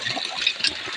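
Steady rush of water gushing from a hand pump in an even stream, close and moderately loud, with no voices.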